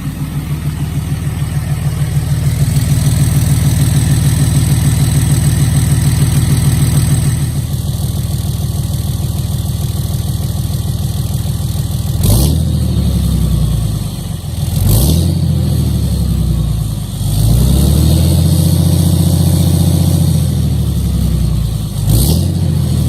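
A 2007 Dodge 3500 pickup with blocked-off EGR idles loudly with a steady low rumble, then at close range it revs repeatedly in sharp bursts, about four throttle blips spaced a few seconds apart, with no talk.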